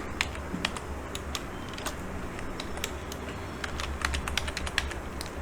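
Computer keyboard typing while entering text in After Effects: a steady run of crisp, close key clicks with uneven rhythm, some bursts quicker than others, over faint low room hum, no talk.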